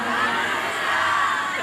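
A crowd cheering with shouts and whoops during a ministerial visit to a college campus in Manado, a brief, loud, continuous burst of voices.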